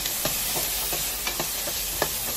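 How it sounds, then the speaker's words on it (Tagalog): Potatoes go into a pan of beef adobo made with Sprite and are stirred through. A constant sizzle runs under sharp, irregular scraping clicks from the spoon. "ilalagay na natin ang patatas guys"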